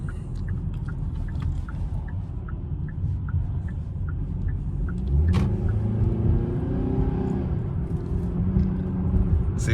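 A 2025 Kia K5 LXS sedan pulls away under throttle, its engine rumble swelling midway through a steady road drone inside the cabin, with a light rhythmic ticking of an indicator early on.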